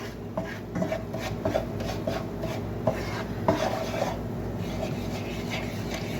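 A spoon stirs and scrapes liver and onion gravy in a pan, making repeated soft rubbing and scraping strokes close by over a low kitchen background.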